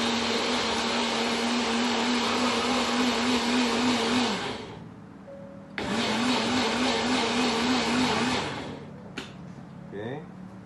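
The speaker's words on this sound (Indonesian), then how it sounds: "Kita blender lagi sampai betul-betul halus." A kitchen blender whirs loudly, blending fish, scallion, celery and water into a smooth paste, running in two bursts with a short pause between, then winding down, with a brief clack at the end.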